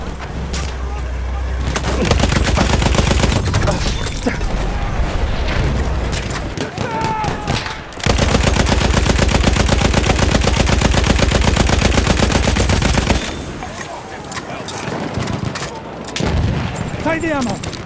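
A Lewis Gun machine gun in the Battlefield 1 video game fires long, loud sustained bursts, with explosions and voices of soldiers shouting in the mix.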